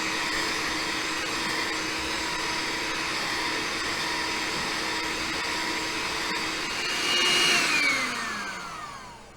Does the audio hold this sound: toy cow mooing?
no